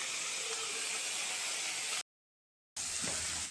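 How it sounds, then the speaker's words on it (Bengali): Prawn heads fry in a pan, giving a soft, steady hiss and sizzle that cuts off briefly and then resumes. "এটা আমি ভেজে নিচ্ছি, আর ওই পাশে তো আমার হচ্ছেই ভাজা।"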